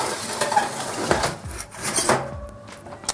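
A metal baking tray of ribs is slid back into the oven, giving a few close metallic clanks and rattles against the rack before a brief quiet moment and a final knock.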